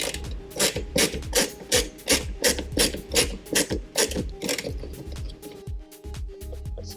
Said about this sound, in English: it's a simple case of just removing the screws.